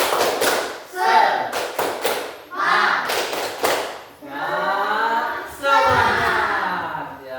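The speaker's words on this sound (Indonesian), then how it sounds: "Ayo. Tepuk semangat." A group of children in a lesson performs a rhythmic 'tepuk semangat' clap chant: bursts of sharp, patterned claps alternate with chanted voices, close and lively.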